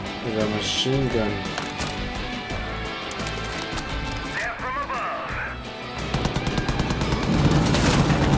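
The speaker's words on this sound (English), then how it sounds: "Take it out with a machine gun!" Machine gun fire in the video game Far Cry 5, dense rapid bursts of gunshots mixed with booms and game effects, with a voice talking over the action.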